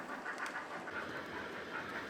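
A model train of Hornby Hawksworth coaches runs over an EM gauge railway layout with a steady, continuous rolling rumble and faint rhythmic wheel clicks throughout.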